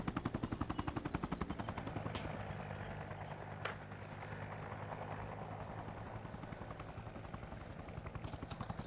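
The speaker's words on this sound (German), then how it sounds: "Irgendetwas hat geschossen, ne?" Sustained automatic gunfire in Arma Reforger, a rapid rhythmic stream of shots running the whole stretch with a low engine-like drone beneath and a couple of sharper cracks mid-way.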